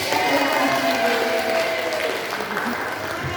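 A workshop audience at a school anti-bullying session applauds, a dense, steady wash of clapping that fades slightly toward the end, with faint voices mixed beneath it.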